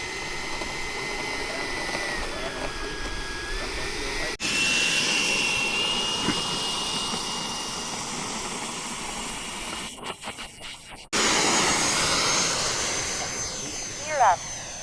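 A Freewing F-16C Aggressor 90mm electric ducted-fan RC jet flies at a model airfield, giving a steady loud whooshing whine that swells and fades as it passes, with a sharp cut in sound partway through and people talking over it.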